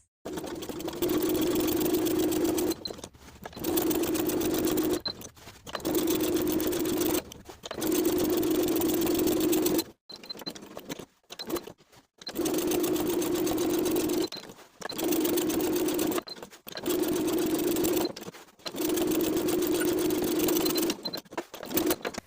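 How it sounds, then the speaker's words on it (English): Sewing machine edge stitching a back pocket onto jeans, running in about eight steady bursts of a few seconds each with short pauses between them. The whirring is loud and close, and no one speaks. "I'm going to sew the pocket in place twice, first edge stitching close to those side and bottom edges"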